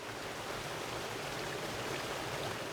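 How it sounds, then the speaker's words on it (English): A waterfall at the headwaters of Crooked Creek pours in a steady, broadband rush of water, constant and fairly close, with no voices over it. "The sound you're hearing is a waterfall at the headwaters of Crooked Creek on Annie's property."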